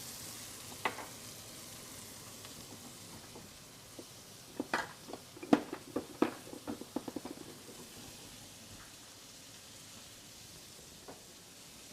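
Onions sear in a pan with chicken for a stir fry, giving a quiet, steady sizzle with a cluster of soft crackles and pops midway through.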